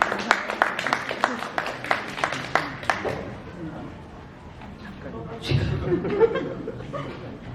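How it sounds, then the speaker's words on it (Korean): An audience at a married-couples counseling lecture claps in a few seconds of scattered bursts mixed with chuckling, then settles into murmured talk and background voices. "박수 한 번요. 격려해 주세요."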